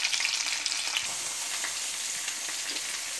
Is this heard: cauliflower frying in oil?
yes